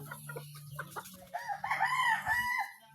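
A pet rooster crows once in a rising, drawn-out call close to the microphone, following a few short clucks and low rustling, with no talk over it.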